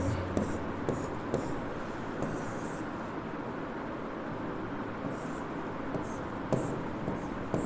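A marker drawing on a board during a grammar lesson: faint, scratchy strokes in short irregular bursts over a constant background hiss, with no talk.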